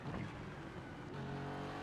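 An Aston Martin GT3 race car in the iRacing sim at Watkins Glen drones loudly through a downshift, its engine note dropping and then settling into a steady lower hum.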